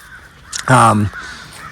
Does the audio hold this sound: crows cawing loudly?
yes